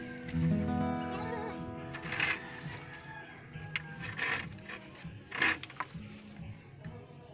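Goats bleat several times over a steady hum of background noise, a few cries standing out against a low murmur of activity.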